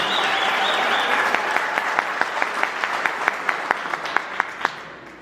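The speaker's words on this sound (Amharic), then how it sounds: "ሞቅ ያለ ጭብጨባ" A crowd at a gathering applauds warmly, a dense wash of clapping that carries on for several seconds, with a few sharper individual claps standing out as it goes on.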